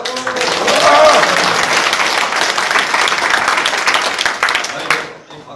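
A crowd at a National Assembly forum on abolishing lawmakers' privileges breaks into loud, dense applause, mixed with cheering. It swells early, holds steady, then drops off abruptly near the end.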